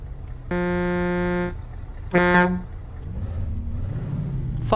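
A Scania truck with a sound mod in Euro Truck Simulator 2 sits at idle under two harsh, droning buzzer tones. A hiss follows, then the engine rumble rises steadily as the truck pulls away.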